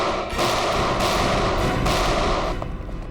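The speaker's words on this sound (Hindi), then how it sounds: "Firing range." Gunfire at a firing range, heard as a run of loud, booming shots in quick succession, some overlapping into one another, close and dominant with no talk over it.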